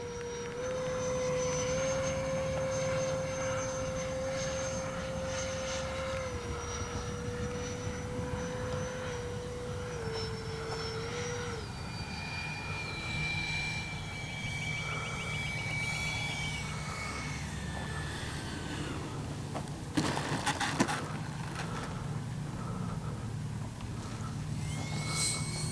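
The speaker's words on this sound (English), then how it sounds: "I'm starting to think this thing could be a high alpha type plane the way she's coming in there." Freewing 80mm MiG-21 electric ducted-fan RC jet flying and coming in to land, a sustained whine with gliding pitch changes over a steady roar, with a brief louder burst near the end.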